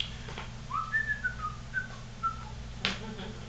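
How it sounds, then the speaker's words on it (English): A single person whistles a short, wavering melodic phrase in a quiet room over a low background hum, faint and close, with no talking. "began to whistle my way back down toward the main street"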